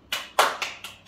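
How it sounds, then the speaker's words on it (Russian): A few people clapping in a tiled room at a clinic: five sharp, separate claps spaced unevenly, close and fairly loud, with no talking. "Аплодисменты"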